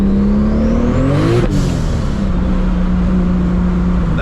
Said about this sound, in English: That was a backfire.